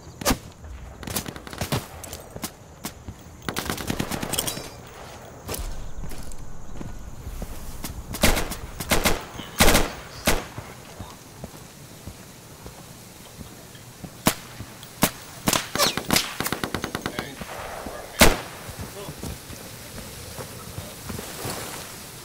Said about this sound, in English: Dude, the shotgun with slugs is a beast.